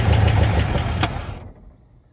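A 1959 Cadillac engine that had sat unused for years runs with a rough, loud idle, then cuts out after about a second and a half, leaving a fading rumble.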